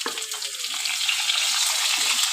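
Diced potatoes and tomatoes frying in oil for a quick khichuri, giving a loud, close, continuous crackling sizzle with bright hissing throughout.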